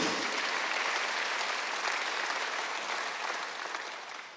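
A church congregation at a Sunday worship service bursts into steady, full applause that fills the room at even strength and tapers slightly toward the end.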